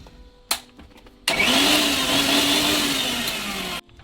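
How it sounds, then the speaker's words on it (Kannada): After a single knock, a kitchen mixer grinder switches on and whirs loudly and steadily for about two and a half seconds, then cuts off sharply into quiet. "ಮಿಕ್ಸಿ ಆನ್ ಮಾಡ್ತೀನಿ."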